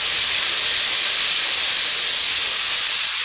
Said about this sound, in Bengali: শুকনো লঙ্কা, কাঁচা টমেটো কুচি, পেঁয়াজ কুচি দিয়ে ফোড়নটাকে একটু ভেজে নেব।